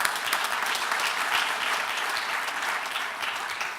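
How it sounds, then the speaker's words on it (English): An audience at a film festival awards ceremony claps in sustained applause, a dense steady patter of many hands filling the room for a few seconds without speech. "Let's give him a big round of applause"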